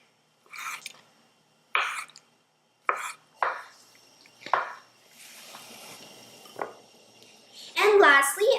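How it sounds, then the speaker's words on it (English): Knife strokes slicing cooked food into thin slices for hot noodles with sesame paste, heard as about seven separate cuts spaced roughly a second apart, close and fairly crisp, with a louder clatter near the end and faint background noise. "Slice it into thin slices."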